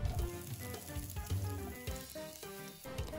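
Sliced onion and slit green chili sauté in a little oil in a kadhai, a quiet, steady sizzle under faint tonal background sound.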